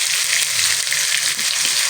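Poppy seed, mustard, ginger and chili spice paste frying with tomato in a pan, giving a steady, loud, continuous sizzle with no talking.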